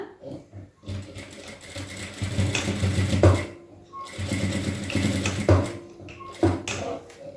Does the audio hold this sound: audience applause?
no